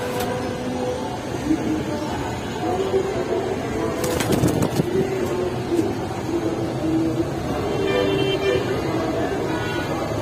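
Pigeons at a pigeon market, soft repeated cooing and a brief burst of flapping wings over a busy, murmuring crowd.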